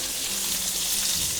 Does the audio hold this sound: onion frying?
yes